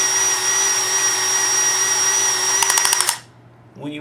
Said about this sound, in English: As I pull the trigger and not feather the trigger, you'll see that the clamp begins to tension.